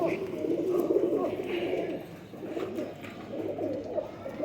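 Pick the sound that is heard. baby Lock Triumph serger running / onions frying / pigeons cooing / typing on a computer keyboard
pigeons cooing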